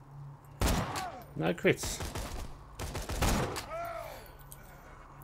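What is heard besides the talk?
gunfire in the video game Borderlands 2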